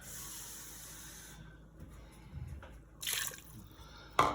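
Water poured into a pot of Cajun-seasoned jambalaya: a faint hiss of background noise, then a soft splash near three seconds and a sharper splash at the end, close by and quiet.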